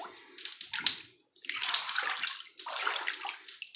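A Lush Cyanide Pill bath bomb with popping candies fizzes and crackles in bathtub water. It makes a continuous close sloshing hiss that swells and dips in waves.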